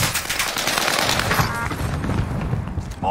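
Rapid gunfire in an online shooter video game: dense overlapping bursts and cracks, loud and continuous, with booms mixed in during a firefight.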